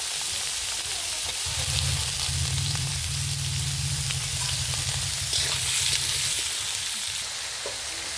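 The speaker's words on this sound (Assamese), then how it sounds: "গাজৰখিনি মই আগত ভাজি ল'ম।" Carrots fry in a hot pan for fried rice, a steady bright sizzle with low stirring rumble running throughout, close and fairly loud, with no voices.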